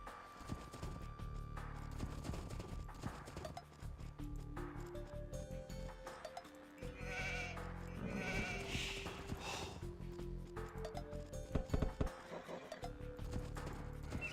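Sheep bleat repeatedly in Age of Empires II, mixed with horse clip-clop, a whinny and other game sound effects under a quiet, steady game soundtrack.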